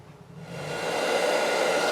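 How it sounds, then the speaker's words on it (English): A hair dryer switching on to dry watered-down tacky glue brushed onto clear styrene for a model refurbishment, its steady airy whoosh rising to full strength within the first second and holding close and even. "I can speed up the drying process by using a hairdryer"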